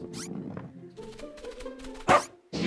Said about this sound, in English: Is that a puppy? I love puppies!